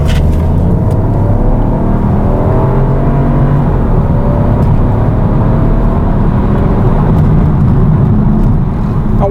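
A 2017 Peugeot 308 1.2 turbo engine roars continuously and loudly as it accelerates in second gear, its pitch climbing steadily, heard from close up with wind and road noise.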